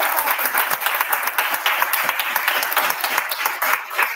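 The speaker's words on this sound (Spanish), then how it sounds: "Mira, acá te están aplaudiendo tus compañeros." Classmates applaud a student during an online panel session on oral history and literary creation, giving dense, steady clapping that stays fairly even and close for the whole stretch.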